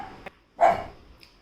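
A single close, sharp dog bark rings out, preceded by a small yip and followed by a faint short sound, set against a quiet indoor room at home.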